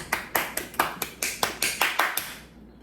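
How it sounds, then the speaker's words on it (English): Clapping applause for a joke: about a dozen sharp, fairly close hand claps in an even rhythm, loud and alone, stopping cleanly after a couple of seconds. "give her a round of applause for that one"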